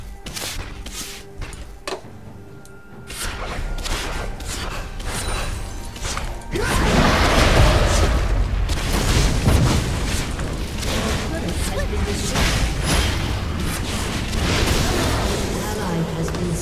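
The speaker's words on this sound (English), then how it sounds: "Your inhibitor has been destroyed." A structure explodes in League of Legends as an inhibitor is destroyed: a loud, sustained booming rumble that swells midway and continues under game announcer voice lines and battle effects.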